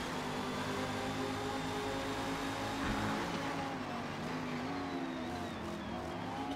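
Race car engine in Forza Motorsport held steady in third gear, a loud, continuous droning whine with a slight dip in pitch midway as the car runs on at near-constant revs, with no talk over it.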